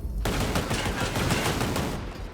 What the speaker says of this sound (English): There's a turret activating.